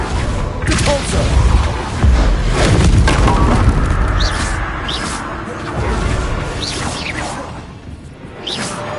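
Repulso spells cast in Hogwarts Legacy let out a series of deep booming blasts with swooshing whooshes, punchy and close, repeating irregularly across the stretch.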